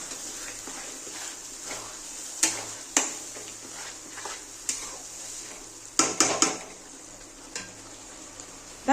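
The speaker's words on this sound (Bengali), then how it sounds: "এবার ভালো করে কষিয়ে নেব।" Chicken sautés in a pan with cumin, salt and turmeric powder, a soft steady sizzle broken by irregular clinks and scrapes of a spoon against the pan, close by with no talking.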